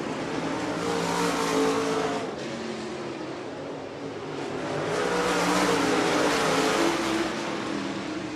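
Late model race cars roar around the BAPS Motor Speedway oval in a heat race, their engines a continuous loud drone that swells and fades as the strung-out pack passes.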